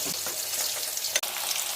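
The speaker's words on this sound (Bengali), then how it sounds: "এঁচোড়গুলো ভাজা হয়ে গেছে" Battered pieces of unripe jackfruit fry in hot oil, a dense, loud, continuous crackling sizzle close up with one brief dip midway.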